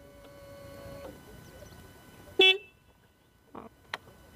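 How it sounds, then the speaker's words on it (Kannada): A KTM RC 200 BS3 motorcycle horn gives one short, loud, close beep midway through an otherwise quiet stretch, followed by a couple of faint clicks. "ಹಾರ್ನ್ ತೋರಿಸ್ತೀನಿ ತಡಿ."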